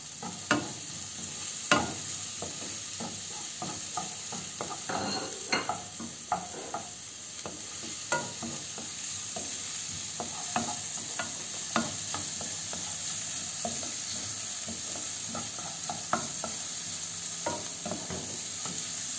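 Chopped onion fries in a pan for a coconut-milk bredo dish, making a steady soft sizzle broken by frequent scraping, clinking stirs of a utensil against the pan, all fairly quiet and close with no talking.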